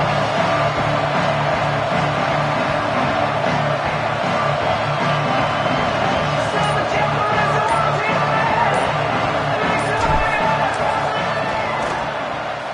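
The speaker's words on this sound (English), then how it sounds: "This crowd trying to do its part to get inside the kicker's head." A large stadium crowd at a college football game roars and rumbles continuously during a field goal attempt, a dense, loud wash of voices with occasional shouts and whoops rising out of it.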